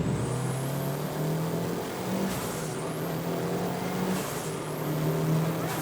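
A Honda Civic EK with a D16 engine and upgraded D-series gearbox accelerates through gears two to four, its engine note climbing steadily, dropping briefly at each shift, then rising again, close and loud throughout.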